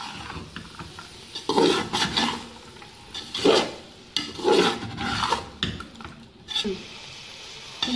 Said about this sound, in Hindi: और इसको अच्छी तरह से मिक्स करेंगे।